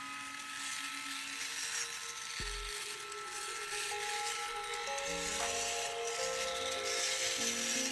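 A cordless electric trimmer runs with its blades buzzing in a steady, dense hum. The pitch changes a little as it moves, and the sound stays close and continuous throughout.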